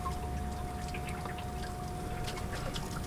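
Water circulating inside an ALDE heater makes a faint, steady trickling and gurgling with a constant low hum and a thin whine, continuous throughout and without speech.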